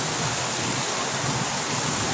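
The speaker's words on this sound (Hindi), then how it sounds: "जोर से बारिश हो रही गुजरात में" Heavy rain pours down in Surat, Gujarat, a dense and steady broadband roar of falling water that fills the short stretch without a break.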